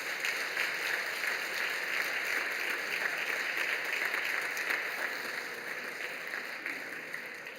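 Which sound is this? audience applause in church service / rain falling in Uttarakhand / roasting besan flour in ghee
audience applause in church service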